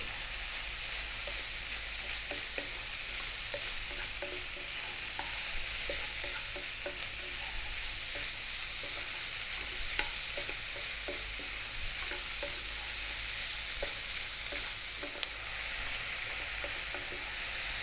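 Spicy shrimp with slit chili stir-fry in a pan, a steady sizzle with frequent light clicks and scrapes from constant stirring, moderately quiet and continuous, with no talking.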